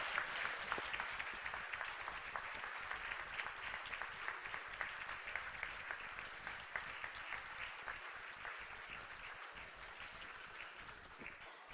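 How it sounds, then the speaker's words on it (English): Sustained audience applause after a Grade 7 school play staged for a cultural day. Steady, dense clapping from a crowd, heard from some distance, rolls on evenly for nearly twelve seconds with no talk. "Huge round of applause for our shining stars who lit up the stage with their talent,"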